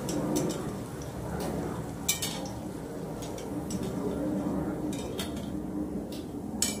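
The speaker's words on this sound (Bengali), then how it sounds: "ভাজা হয়ে গেছে, এখন আমি এগুলোকে প্লেটের মধ্যে নামিয়ে নিচ্ছি।" Fried pieces lifted from a pan onto a plate with a spatula, sounding as light clinks and scrapes over a steady background hum; the taps are faint and spaced irregularly, with no talking.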